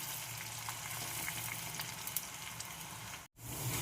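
Food sizzles steadily in hot oil in a home kitchen, a continuous close crackling hiss broken by a brief silent gap near the end.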